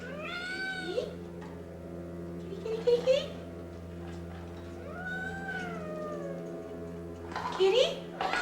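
A cat meows repeatedly indoors, several drawn-out, wavering cries spaced a few seconds apart, close and fairly loud over a low steady hum.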